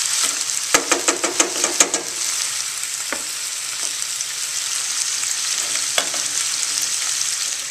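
Chicken sausage frying in a pan with a constant bright sizzle, a few quick stirring clatters early on, then steady hissing throughout, close and fairly loud.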